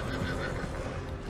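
A horse whinnies in the video game Red Dead Redemption 2 amid a dense, noisy background of clattering and movement, the neigh brief and somewhat buried in the mix.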